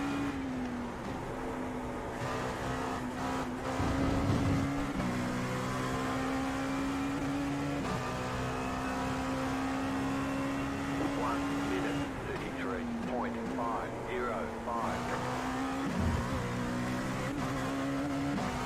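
An LMP2 prototype race car in iRacing lapping Watkins Glen while suffering heavy understeer: a loud, steady engine drone runs throughout, its pitch dropping and climbing at gear changes and braking zones every few seconds.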